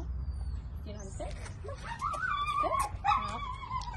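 Small dog at the Los Banos animal shelter in California, whimpering and yipping repeatedly up close in high, wavering cries, with people talking around it.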